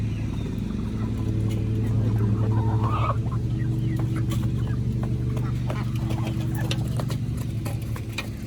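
Backyard chickens cluck in short, scattered calls over a constant low hum, fairly close by, with no voices present.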